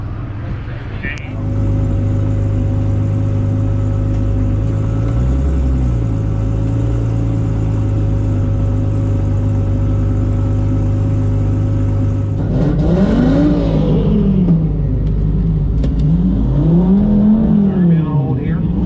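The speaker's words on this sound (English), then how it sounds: "There goes the Baltic Supra right there." A Toyota Supra drag race car at a drag strip roars loudly and steadily for several seconds, then its engine note climbs and shifts through gears as it pulls away, with people talking over the noise.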